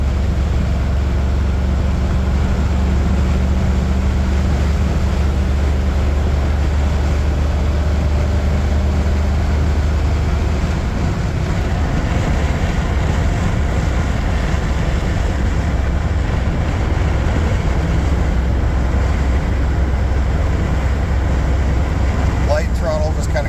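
A 1951 Ford F5 truck with an EFI 460 engine cruising on a windy day, a steady low drone with wind noise, while someone talks over it.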